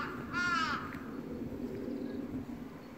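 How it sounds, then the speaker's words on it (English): A single harsh crow caw rings out early at a temple in Japan, then only a steady outdoor hum remains. "Crows here sound weird."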